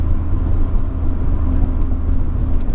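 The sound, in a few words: wind noise from convertible soft top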